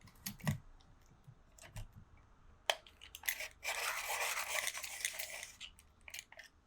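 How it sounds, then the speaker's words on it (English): A Paynes Grey coloured pencil being sharpened while drawing a Friesian, heard as a few faint clicks followed by a close, gritty grinding scrape lasting about two seconds, then light taps, all quiet. "I'm just going to sharpen mine."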